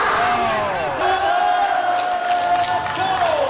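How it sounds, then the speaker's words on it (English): Expo crowd cheering and applauding as a PC giveaway winner is called up on a gaming stage, a loud sustained roar of whoops and shouts over clapping, with a voice calling out above the crowd. "Give it a big round of applause up on stage."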